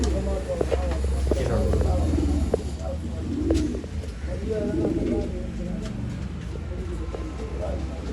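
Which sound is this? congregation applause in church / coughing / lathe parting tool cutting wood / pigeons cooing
pigeons cooing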